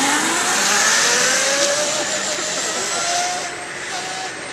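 An electric ZKart go-kart drives past, giving a loud, steady electric whine with rising tones and road rush that fades slightly toward the end.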